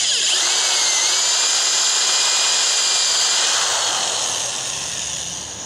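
A power drill with a mortise bit bores a small hole in wood, a loud, high whine held steady for several seconds before tapering off as the bit slows.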